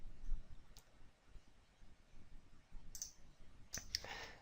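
A few sharp mouse clicks on an Attachments tab, spaced apart over a quiet background, one early and a cluster near the end, close and fairly faint.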